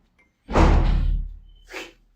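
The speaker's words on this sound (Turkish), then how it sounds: "Kapı çarptı" A door slams shut once, loud and close: a heavy bang with a brief rattling echo, then a softer knock as it settles. No voices are heard.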